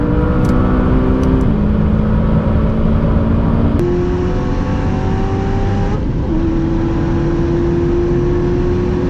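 A 2019 Corvette ZR1 and a 2017 McLaren 570S accelerate hard from high speed, heard as a loud, steady engine roar from inside the car with pitch climbing through each gear and dropping at every shift.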